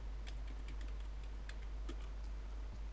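A name is typed on a computer keyboard, producing a quick run of soft, faint key clicks over a low steady electrical hum.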